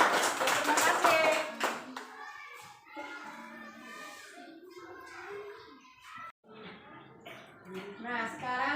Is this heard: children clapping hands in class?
yes